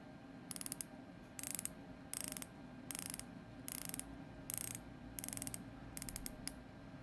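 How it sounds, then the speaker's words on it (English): A Tudor Pelagos watch bezel turned on its 60-click ratchet, giving short bursts of crisp, close clicks in a regular stop-start rhythm, about eight quick runs of ticking over a quiet background. "I really like the 60 click of the Pelagos bezel. I'm gonna make it sound to you here."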